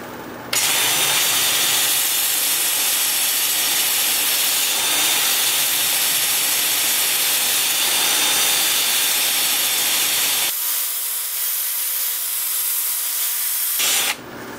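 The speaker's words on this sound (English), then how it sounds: "I'll switch to my 2-inch disc with the lathe spinning in reverse at about 350" Steady, loud abrasive whir of a 2-inch sanding disc against chestnut wood spinning in reverse on a lathe at about 350 rpm, continuous for most of the stretch, with a brief quieter, thinner section near the end.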